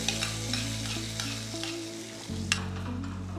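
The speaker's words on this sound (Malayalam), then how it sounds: "കടുക് പൊട്ടിച്ച മിക്സറ് മുട്ടക്കറിയിലേക്ക് ഇടും." A mustard seed tempering with curry leaves tipped into a pot of egg curry sizzles loudly, with a steady frying hiss, a few clinks of a spoon and a sharp crackle burst partway through.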